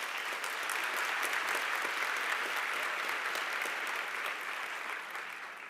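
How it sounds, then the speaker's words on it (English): Steady applause from a graduation audience for doctoral candidates at Nelson Mandela University's Gqeberha campus, a dense continuous wash of clapping that fades slightly at the end. "I want us to give our doctoral candidates a round of applause"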